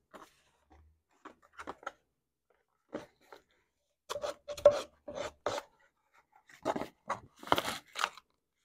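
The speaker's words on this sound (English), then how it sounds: "I'm gonna clean this up on my sandpaper a little bit." Powder horn rubbed on sandpaper, heard as short dry rasping strokes in separate bursts, sparse at first and then quicker in close groups, near and fairly quiet.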